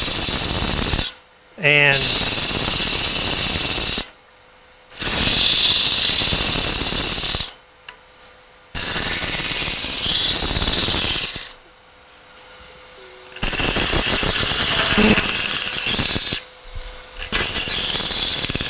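A scraper cuts a wooden snowman spinning on a lathe, giving loud, harsh scraping and chattering bursts separated by short pauses, with a brief spoken word between passes.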